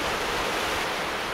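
Ocean surf washes onto a shoreline in a constant, hissing roar, fairly soft and unbroken, with no voices present.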